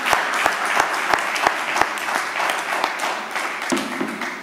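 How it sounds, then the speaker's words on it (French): An audience applauds steadily and fairly loudly, a thick wash of clapping punctuated by a few sharp, distinct individual claps throughout. "Est-ce qu'on peut les applaudir?"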